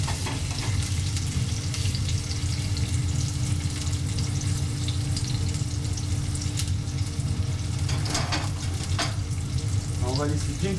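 Potatoes frying in a pan as their skins brown, a steady, loud, close sizzle that continues throughout, with occasional clinks and stirring.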